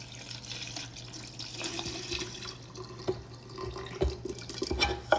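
Homemade chai tea concentrate, chunky with spices, poured from a container: faint trickling and splashing liquid with a few drips and clinks, close and quiet, no talk.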